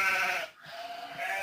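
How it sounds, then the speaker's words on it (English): Loose sheep bleat on a farm, two hoarse, rough calls close by with a short pause between them, sounding alone without talk. "The sheep will get out and all hell breaks loose."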